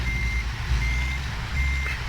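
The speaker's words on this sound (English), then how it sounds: "Reversing is one of the more challenging things in this game" A truck backs up in American Truck Simulator, its reversing alarm giving steady, evenly spaced high beeps over the loud low drone of the diesel engine.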